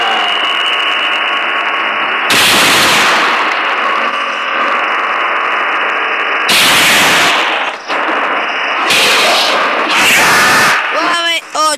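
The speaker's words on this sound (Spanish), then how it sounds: "balazo a la cabeza." Several loud bursts of rapid gunfire, each lasting under a second, cut through a steady droning background, with short gaps between volleys and a final quick burst near the end.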